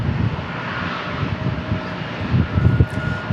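An airliner arriving at San Diego International Airport makes a loud, broad engine roar that swells toward the end, with some wind rumble and no talk.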